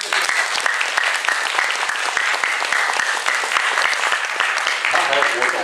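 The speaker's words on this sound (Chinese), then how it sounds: "我们再掌声谢谢他。" An audience applauds a professor at a talk on building a youthful brain, dense continuous clapping that stays loud and even across the whole stretch, with a voice coming in near the end.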